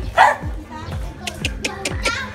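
A golden retriever barks several times in a quick series of short woofs, close by, mixed with background voices and chatter.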